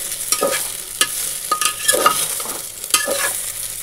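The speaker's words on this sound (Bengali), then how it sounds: "এই যে একেবারে ফোড়ন দিয়ে বসিয়ে দিলাম, বেশি ভাজবো না, মুগ ডাল ভাজলে ওদের আবার গ্যাস হয়ে যায়" Moong dal frying in a tempering in a pan, a brief close sizzle broken by several sharp scraping stirs.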